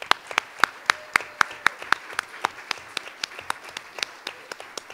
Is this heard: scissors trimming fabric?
no